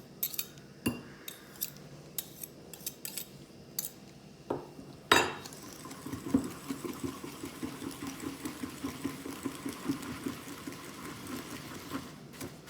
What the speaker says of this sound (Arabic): وهلا بدنا نبلش نخلطهم